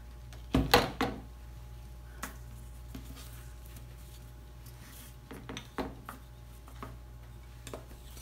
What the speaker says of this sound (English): I just want to stir it in real quick for you guys